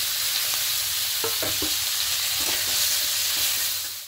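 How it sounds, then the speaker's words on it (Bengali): Shrimp fry in hot mustard oil in a continuous, loud hissing sizzle with a few scraping stirs, close by and with no voices. "তেল গরম হয়ে গেছে, এবার চিংড়ি মাছগুলো দিয়ে দেবো।"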